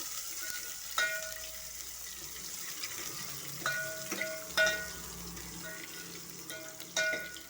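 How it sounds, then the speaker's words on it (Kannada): Chopped onions and green chillies fry in hot oil for a sambar tempering, a steady close sizzle with a few sharp crackles and clinks of stirring, no voices. "ಒಂದೆರಡು ಈರುಳ್ಳಿ ತಗೊಂಡು ನಾವು ಸಾಂಬಾರಿಗೆ ಒಗ್ಗರಣೆಯನ್ನು ಮಾಡ್ಕೋಬೇಕು"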